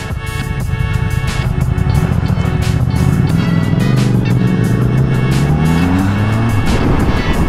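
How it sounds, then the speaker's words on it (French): A new Triumph Speed Twin motorcycle with LED lighting pulls away on its first ride, its engine note loud and steady and climbing in pitch as it accelerates close by. "voilà pour vous montrer les premiers tours de roue, voilà de la moto de Bidouchon quand même."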